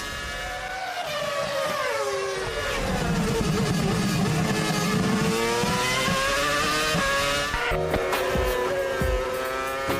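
Formula 1 cars in the 2006 season, Coulthard's Red Bull chasing Scott Speed's Toro Rosso, their high engines screaming and shifting pitch as they pass, then fading while another car cuts through.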